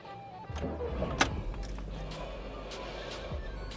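A 2018 Volkswagen Beetle 1.2 TSI Sport with a turbocharged four-cylinder engine cranks and catches with a sharp burst, then settles into a low, steady idle rumble heard from inside the cabin.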